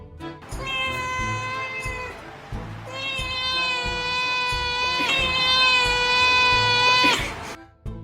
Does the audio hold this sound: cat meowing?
yes